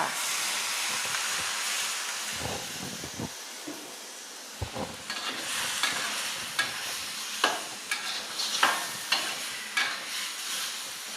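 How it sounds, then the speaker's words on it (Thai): Vegetables stir-fried fast in a pan for sweet and sour chicken, with a steady sizzle and hiss broken by sharp scrapes and clatters of the spatula against the pan, loud and close. "เราจะผัดเร็วๆนะคะ"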